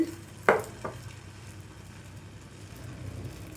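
Puffed rice dosa batter fries on a hot pan with a soft continuous sizzle, opened by a couple of sharp utensil clicks early on, then settling into a low steady crackle.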